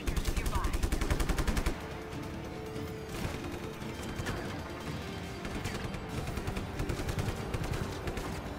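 Video game gunfire from Just Cause 3 directed at the player, dense automatic bursts and repeated shots rattling continuously throughout, loud and close, with heavy rapid reports especially at the start.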